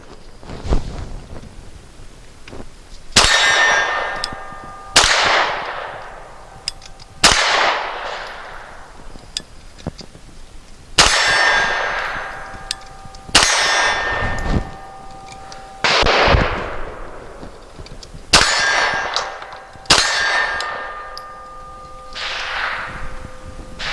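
Handgun shots at an outdoor shooting range, fired as sharp, loud single reports in small clusters, about ten in all, each with a ringing decay and echo, and no talking between them.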